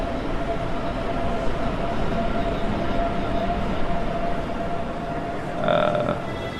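Frankfurt S-Bahn regional train in Train Sim World 5, a steady low rumble with a faint sustained tone, rising briefly near the end as a whine or horn-like sound sounds, no talking.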